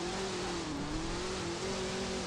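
Jeep Grand Cherokee Trackhawk launching in No Limit Drag Racing 2.0, a loud sustained engine roar with a steady high-pitched drone and slight wavering in pitch, running without a break.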